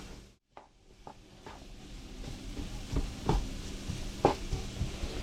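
Soft, steady sizzling from a pot of Caribbean pepper pot with catfish, greens and cayenne, with occasional clinks and stirring scrapes, low and close, no voices.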